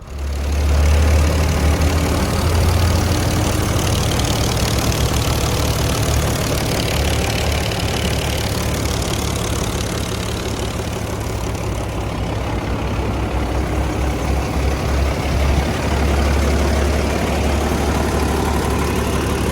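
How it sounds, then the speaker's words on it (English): A 1800C tractor that had been sitting runs steadily, its engine chugging at a low idle throughout, loud and close with no voices. "I'll throw in a quick clip of the tractor running"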